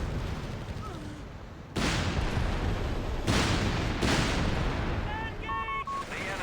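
Units in a Company of Heroes 3 battle trade gunfire, with heavy sustained bursts of shots and booms filling the mix, interrupted by brief lulls and a few tonal game cues near the end.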